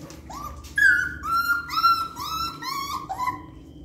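A dog whimpers and whines in a series of high, wavering cries that rise and fall, close by and moderately loud, with no one talking.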